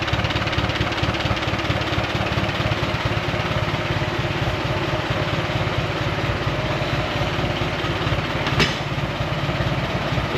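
A 1959 Allis Chalmers D17 tractor engine idles at a steady, loud, rough rumble, running without pause, with one brief clank near the end and no voices.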